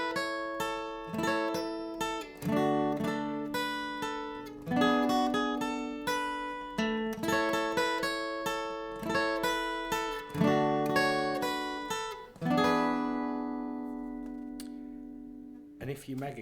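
Acoustic guitar playing a song riff, clear plucked and strummed notes ringing close and alone, with a sustained final chord left to fade.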